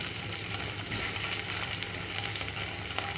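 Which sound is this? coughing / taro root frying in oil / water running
taro root frying in oil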